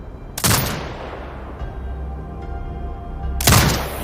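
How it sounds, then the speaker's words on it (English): Two heavy, booming turret bursts from Sniper: Ghost Warrior Contracts 2, one near the start and one near the end, each a loud broadband blast that rolls off into a low rumble and quiet ambience. "Exit binocular mode and command the turret to fire."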